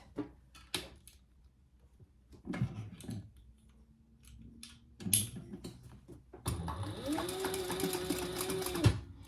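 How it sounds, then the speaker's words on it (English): A sewing machine stitches a pouch seam down to a corner mark, starting with a few short bursts and then running steadily and close up, with a little talk at the start. "So we're just sewing this first side down to our corner mark."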